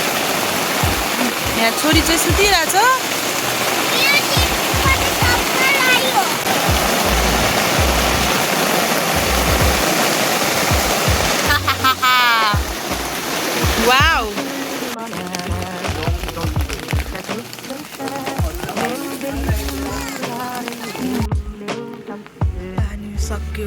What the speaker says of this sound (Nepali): पानी पर्यो